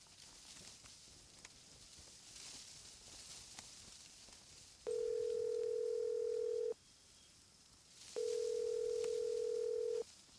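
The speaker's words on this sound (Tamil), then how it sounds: "பெத்த அம்மா தானே ஃபோன் பண்றேன், எடுத்து தொலைக்கலாம்ல." A telephone ringback tone during a call sounds twice as long, steady, even tones with a pause between, over faint background noise.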